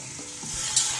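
Onions cooking in a pan for chicken white korma, giving a brief, steady, close hiss of frying with a faint stir.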